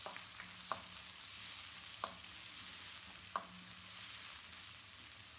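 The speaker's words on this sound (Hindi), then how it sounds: "तो अब मैं इसमें शामिल कर दूंगी कटी हुई प्याज और इसको जो है हमने ट्रांसपेरेंट सा जो है वो फ्राई करना है" Chopped onions fry in hot oil and ghee for a mutton karahi, a soft, steady sizzle broken by a few light clicks of stirring every second or so.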